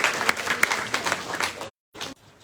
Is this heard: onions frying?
no